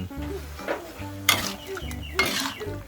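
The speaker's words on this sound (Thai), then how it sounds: "เราเอามาผัดก่อน ผัดให้สุกแล้วก็ให้แห้ง ๆ" Chicken filling stir-fried in a pan with kaffir lime leaves, a utensil scraping and clinking against the pan in a few strokes over a soft sizzle, with faint background voices.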